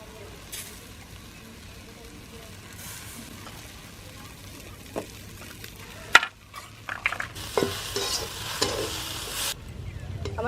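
Drumstick leaves frying in a pan in a village kitchen, with a steady low sizzle under scraping stir strokes and a few sharp clinks of the utensil, growing busier toward the end.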